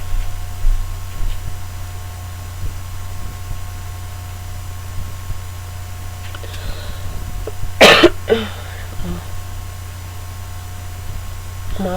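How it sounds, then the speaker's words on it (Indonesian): A single burst of coughing from a person recording an online university lecture, heard close against a steady electrical hum, with quieter throat sounds after it and otherwise near-silence. "Maaf ya saya batuk-batuk."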